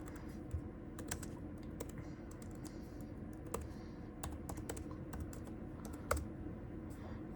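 Soft, steady typing on a computer keyboard as an SSH command is entered for a Raspberry Pi, key taps clicking quietly and evenly with a few louder strokes and no voices.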